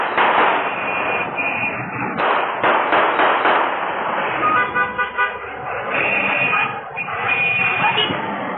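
A ten-wheel truck sounds its horn in repeated loud, harsh blasts on CCTV footage, with engine and road noise and a few sharp popping bangs mixed in.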